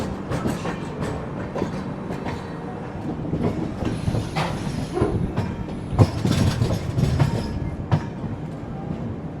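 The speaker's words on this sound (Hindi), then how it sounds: "मेन लाइन ज्वाइन करती हुई अपनी कोंगू एक्सप्रेस।" The Kongu Express, hauled by a WAG-9HC locomotive, running on the Indian Railways main line, with steady clickety-clack of wheels over rail joints and carriage rumble heard from on board, loud and continuous, with no voices.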